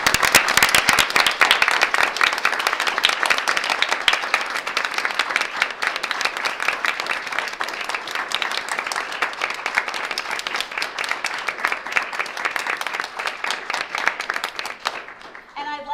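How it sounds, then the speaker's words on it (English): A board of education meeting audience rises for a standing ovation: loud, sustained, crisp clapping that stays dense for the full stretch before thinning at the very end. "give both of these gentlemen a big round of applause"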